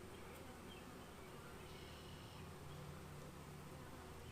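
Honey bees buzz steadily throughout a hive inspection, a dense, continuous drone of many insects close by with no voices.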